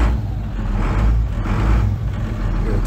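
Kenworth T300 truck engine idling close by, a steady, deep diesel rumble that holds an even level throughout with no voices over it.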